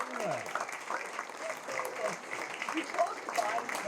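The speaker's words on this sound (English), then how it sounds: "Give him another round of applause." Sustained audience applause fills the room, steady and fairly close, with cheering voices and talk rising over the clapping.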